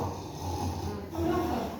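A voice imitates snoring, giving two rough, rasping breaths, the second louder and more nasal, in a French lesson.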